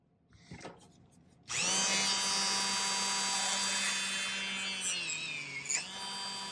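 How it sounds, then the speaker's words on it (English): A small diamond reamer spins up in a rotary tool to work the holes in a silver pendant, giving a loud, steady high-pitched whine that dips slightly as it bites into the metal, with nobody speaking. "So this is just a little diamond reamer."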